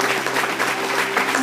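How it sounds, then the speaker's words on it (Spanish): Loud, steady applause from a church congregation fills the space without a break, a dense wash of many hands clapping together, with no voice rising above it. "Denle un aplauso fuerte al Señor Jesucristo"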